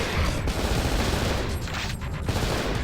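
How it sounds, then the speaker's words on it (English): Dense gunfire in the video game Cold Fear, aimed at a fire extinguisher, with machine gun ammo in use; a loud, continuous burst of overlapping shots filling the whole moment without a break. "Trying to be clever there and shoot the fire extinguisher"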